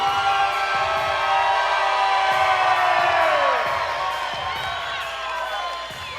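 A boxing-style event crowd roars and cheers loudly and steadily for the return of world champion kickboxer Randy "Boom Boom" Blake after a first-round knockout win, a dense wall of whoops and shouts that holds throughout.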